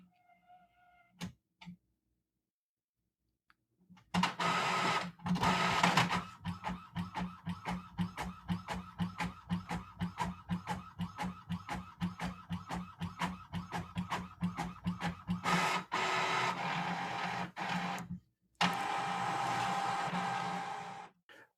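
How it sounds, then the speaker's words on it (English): An Epson ET-4550 series inkjet printer runs a print job, starting with a few isolated clicks, then a loud, steady stretch of rapid rhythmic mechanical pulsing and whirring from the print head, a short pause, and a final smooth feed run, with no talk. "All right. There goes my printer."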